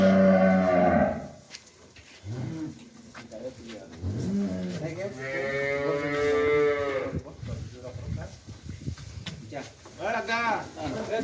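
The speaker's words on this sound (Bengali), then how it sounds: "গরু আসে" Dairy cows and calves on a farm in Dinajpur, Bangladesh, low drawn-out moos rising and falling, one long call mid-clip among others, heard close with people talking around them.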